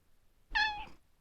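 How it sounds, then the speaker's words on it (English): A cat in the video game Kathy Rain 2 gives a single short, clear meow lasting about half a second, close and alone against near silence. "Meow. Good girl."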